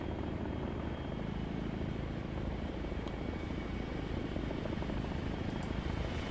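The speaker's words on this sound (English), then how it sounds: "That could be our helicopter coming in now. Yep, all there's a Chinook." Chinook helicopter arriving in a video game, a steady, loud, continuous rotor thrum and rumble that holds throughout without any talk.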